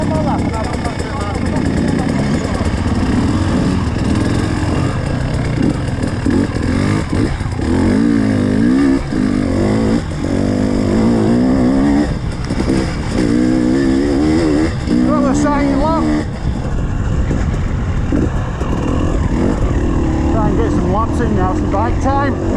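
Off-road motorbike engine at a quarry practice day, revving and pulling away over rough terrain, loud and continuous with rising and falling pitch under a person speaking nearby.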